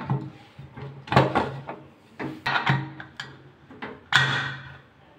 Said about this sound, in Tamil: அவ்வளோதான், இப்போ நம்ம மூடி போட்டுடலாம்.